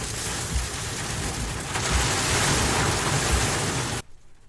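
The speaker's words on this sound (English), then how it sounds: "We got hail." Heavy rain with hail pours down in a steady, dense roar that swells midway and cuts off abruptly near the end, with no voices.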